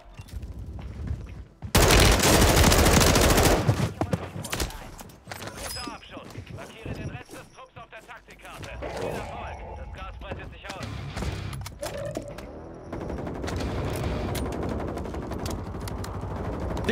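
Gunfire in the video game Warzone 3, including a sniper rifle, erupts in a loud, dense burst early on, followed by scattered sharper shots and movement sounds with voices in the background.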